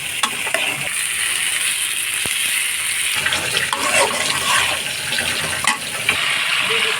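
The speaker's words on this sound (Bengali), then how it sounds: "একটু সিদ্ধ হওয়ার জন্য পানি দিয়ে দিলাম" Water hits a hot pot of chicken curry with potato and pointed gourd, a loud, steady sizzling hiss that continues throughout, with occasional bubbling pops.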